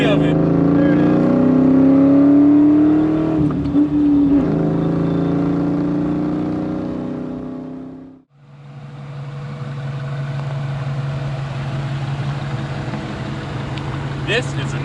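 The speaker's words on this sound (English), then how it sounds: "This is a 1999 Ford Mustang SVT Cobra on unedited." A 1999 Ford Mustang SVT Cobra engine runs and revs loudly nearby, swelling and falling away before settling into a steadier lower drone, with a voice heard in the background.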